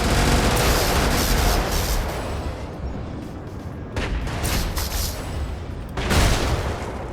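Cannon shots bursting with splash damage in the video game Brigador, a roaring wall of explosions that eases briefly and then erupts again in two more loud booming blasts, close and heavy.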